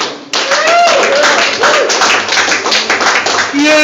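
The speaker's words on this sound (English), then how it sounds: "Huge round of applause! John Romeo and Peter Meisel!" Close, loud clapping from an audience for two interview guests, steady throughout, with excited voices cheering and calling out over it.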